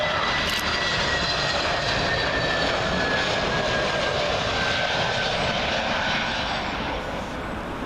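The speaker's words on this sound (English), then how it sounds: "Next arrival is Aer Lingus A320neo from Cork." An Aer Lingus Airbus A320neo arriving from Cork on approach to Heathrow runway 27L, its jet engines roaring loud and close in one steady, broadband rush that holds through and eases only slightly at the end.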